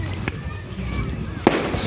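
A fireworks salute over the evening embankment in Yeysk pops and booms a short way off, with a sharp burst near the end, while voices talk nearby throughout.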